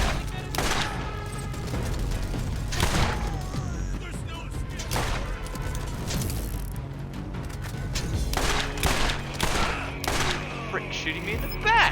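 Rapid enemy gunfire in Borderlands crackles in repeated bursts with sharp impacts and thuds, loud and persistent throughout, mixed with game effects and occasional speech.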